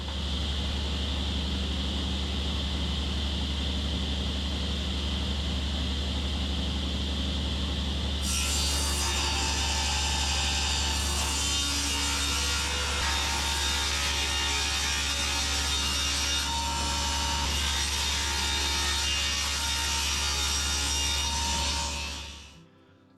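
A power saw rips a sheet of aspenite into one-foot-wide strips, a loud, continuous cutting roar that rises as the blade bites into the board and runs steadily until it stops abruptly near the end, over a constant low hum.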